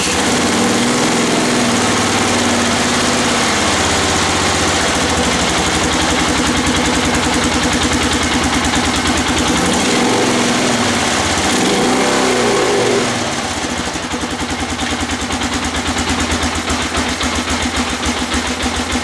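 A Polaris Sportsman 500 ATV engine runs after a fresh air filter install and carburetor rebuild, revving loudly with a buzzy, uneven throttle for about thirteen seconds before settling into a steady, slightly lower idle.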